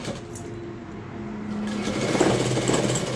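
A sewing machine stitches along a folded strip of leftover dress fabric, a steady mechanical whir that grows louder toward the end, with no talking.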